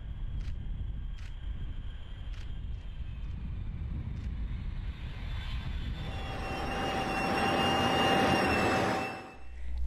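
A military jet aircraft passes overhead at an air base in Northwest Florida, its engine roar building from a distant rumble to a loud, close whine and then fading, with no voices.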